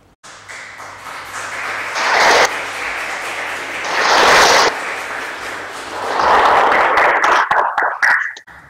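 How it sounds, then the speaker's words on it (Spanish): Applause at a Supreme Court swearing-in ceremony for new lawyers, rising in three broad swells of clapping with quieter gaps between, filling a large hall at moderate distance. "Aplaudamos este logro."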